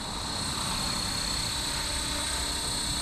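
Blade Fusion 360 RC helicopter on a mild test flight after repair, giving a steady, continuous whine and rotor hum at moderate distance with outdoor background noise throughout.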